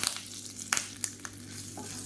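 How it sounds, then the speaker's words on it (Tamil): Mustard seeds spluttering in hot oil: sharp pops and crackles burst irregularly over a steady hiss, a few distinct snaps standing out close by. "இப்போ கடுகு வெடிக்க ஆரம்பிக்குது"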